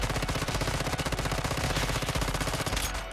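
Rapid automatic fire from an MPS7 gun in the video game Once Human, a dense, unbroken burst of shots hammering a training dummy for about three seconds before cutting off.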